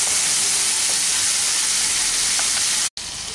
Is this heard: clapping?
no